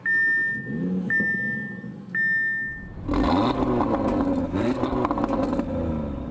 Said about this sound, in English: Crank the motor to life and the unmistakable sound of an inline 5 begins to burble.